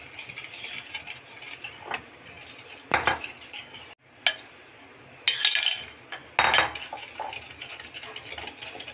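Spoon scraping and clinking against a bowl as flour is mixed into sponge cake batter in one direction, with irregular bursts of metallic taps and scrapes over a quiet kitchen background, no talking.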